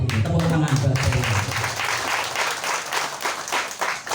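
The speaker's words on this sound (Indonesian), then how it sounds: "Tepuk tangan buat saya." A community crowd at a neighbourhood association handover ceremony claps steadily and loudly, a close, dense applause with murmured voices underneath throughout.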